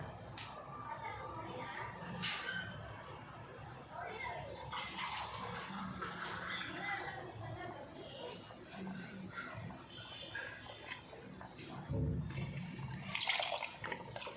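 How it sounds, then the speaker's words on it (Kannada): Water is poured into cucumber majjige huli, a buttermilk-based curry. The pouring and splashing are quiet and intermittent, with low talking in the background. "ಇದಕ್ಕೆ ನಿಮಗೆ ಒಂದು ಸ್ವಲ್ಪ ಗಟ್ಟಿ ಅನಿಸಿದ್ರೆ ಒಂದು ಸ್ವಲ್ಪ ನೀರು ಹಾಕ್ಕೋಬೇಕಷ್ಟೆ"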